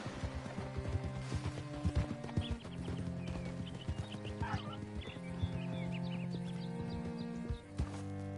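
Horse hooves clip-clop steadily in Red Dead Redemption 2, a rhythmic trotting gait that runs the whole stretch amid layered in-game ambience and music.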